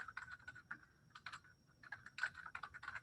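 Quiet computer keyboard typing while naming a folder in an online course tool, a string of light, irregular key taps heard close and alone.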